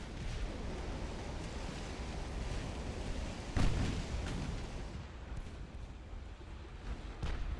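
Naval gunfire from the warship game Ultimate Admiral Dreadnoughts rumbles as continuous low booming, with one heavier impact midway and a few fainter thuds later, with no voices.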